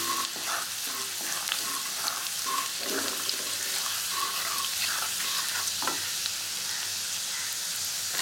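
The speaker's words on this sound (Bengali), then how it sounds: "দিয়ে দেব আদার টুকরোগুলো। এক দেড় মিনিট এটাকে একটু ফ্রাই হতে দেব।" Ginger pieces frying in a pan, part of a Schezwan chicken, give a continuous dense sizzle with scattered crackles and the scrape of stirring, close and steady throughout with no voices.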